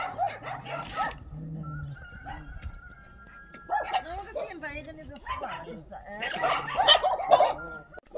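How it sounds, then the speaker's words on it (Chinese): Border collies bark and yip in a run of short, close barks with whimpers between, while people talk over and around them at a dog shed. "文文姐，文文姐，你看我们的狗狗平常都住在这个棚子里边的哈"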